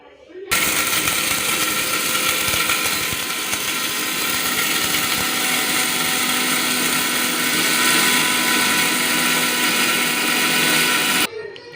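Mixie jar grinder pulverizing four spoons of black peppercorns for egg pepper powder, a loud steady whirring grind with rattling that starts suddenly, runs unbroken for about eleven seconds, then stops.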